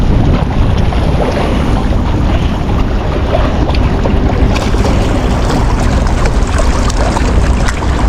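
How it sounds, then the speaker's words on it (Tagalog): Strong wind buffets the microphone in a loud, continuous roar, with gusty rumbling and faint water sounds beneath it. "Lakas ang hangin eh."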